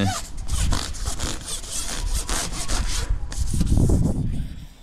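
Sandpaper scrubs a security door ahead of spray painting, close and loud, in quick repeated back-and-forth rubbing strokes with a brief pause before the sanding resumes more heavily.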